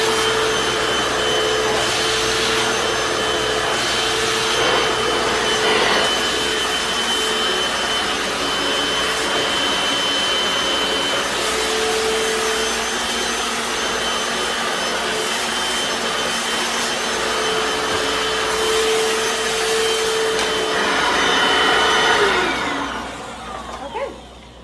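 A Hoover FloorMate Deluxe FH40160 hard floor cleaner runs continuously at close range with a loud, steady whirring motor and brush drone, shifting slightly in pitch as it moves, then winding down at the end.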